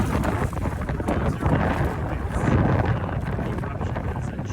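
Strong wind at the top of a volcano rim in the Philippines buffets the microphone steadily, a loud, rough, unbroken rush with gusty swells throughout.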